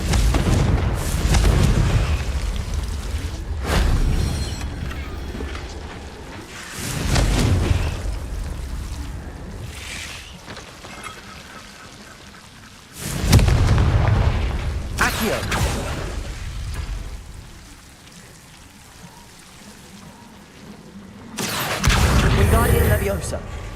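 Repeated Confringo blasting-spell explosions in the Hogwarts Legacy video game, several loud booming bursts spaced a few seconds apart with rumbling tails between them.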